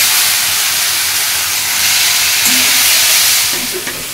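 Crumbled chhena sizzles loudly in a hot oiled pan with turmeric and chili powder while cooking for stuffed dum aloo, a steady close-up frying hiss that tapers slightly at the end.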